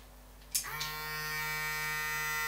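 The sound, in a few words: Braun Series 3 340 electric shaver motor running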